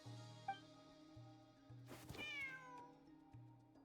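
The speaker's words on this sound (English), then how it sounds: "I also brought some snacks for Ashru. Isn't that right, Ashru? Come here. There's a good kitty." Cat meowing in a video game, one clear drawn-out meow in the middle over a quiet, steady musical background, with a brief small chirp earlier.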